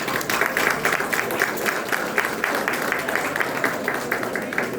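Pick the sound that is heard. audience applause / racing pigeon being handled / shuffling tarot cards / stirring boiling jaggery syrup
audience applause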